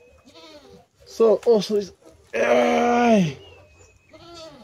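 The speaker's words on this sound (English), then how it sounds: "I'm holding two bucklings, male goats." Two young male goat kids, bucklings about one and two weeks old, bleat close by in a burst of short cries and then a longer sustained bleat, with someone talking briefly before and after.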